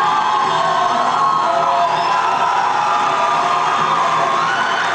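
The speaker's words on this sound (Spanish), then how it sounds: "Está todo aplauso" A large audience cheers, whoops and shouts loudly and steadily for a singer named Juan Carlos on a televised talent show stage, a dense continuous roar of crowd noise with no clear speech.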